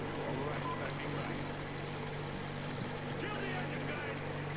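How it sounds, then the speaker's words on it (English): Boat engine running in the video game Metro Exodus, a steady low droning hum that continues unbroken with wind and water noise around it. "Kill the engine, guys!"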